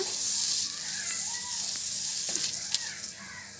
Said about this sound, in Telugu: యాడ్ చేసుకుని కొంచెం అటు ఇటు తిప్పుకోవాలన్నమాట.